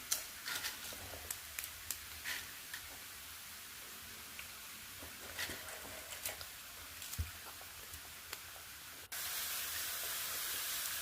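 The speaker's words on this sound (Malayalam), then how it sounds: "അങ്ങനെ ഓരോ ട്രിപ്പുകളായിട്ട് ഇങ്ങനെ വറുത്ത് കോരിക്കൊണ്ടിരിക്കുകയാണ്." Banana chips deep fry in oil batch by batch, a faint steady hiss dotted with small crackles and pops, the sizzle growing louder near the end.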